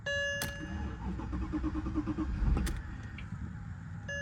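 A 2007 car engine cranks briefly with the key, then turns over and settles into a low idle, heard up close.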